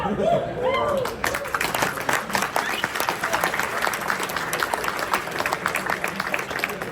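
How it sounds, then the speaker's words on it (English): A crowd at the Warhammer World Championships 2023 in Atlanta applauds, loud sustained clapping with some voices mixed in, holding steady throughout. "Round of applause for Underworlds."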